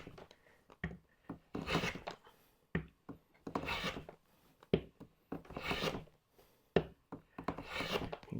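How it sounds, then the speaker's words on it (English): A hand plane shaves wood in repeated rasping strokes, each a sharp scraping swipe of about half a second to a second, close and fairly loud, with short pauses between passes. "You can tell by the sound of the plane when you're almost there"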